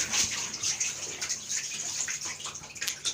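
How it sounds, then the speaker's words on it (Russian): Water leaks from a hole in a giant water balloon, a bright, steady trickling and splashing that fluctuates in strength, close and fairly loud, with no talking. "Тут начала течь пробоина"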